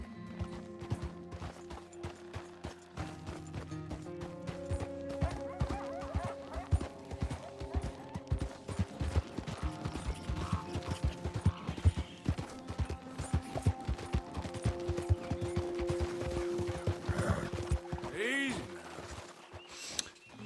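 Horses in the video game Red Dead Redemption 2, steady clip-clop of hooves with a whinny near the end, over in-game music and effects and mixed with people talking throughout.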